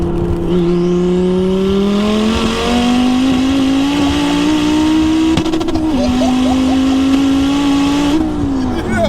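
A 900bhp Ford Focus ST accelerates hard, its engine pitch climbing steadily through a long pull with turbo whistle and exhaust noise, loud and close from inside the car, easing briefly at a gear change before rising again.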